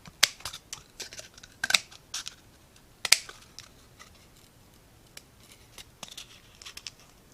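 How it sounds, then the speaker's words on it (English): Scissors cut around a paper template for an upcycled homemade piggy bank. Crisp, irregular snips ring out close by, some bunched together, with quiet rustling gaps between cuts. "I'm going to go ahead and cut it out using the scissors."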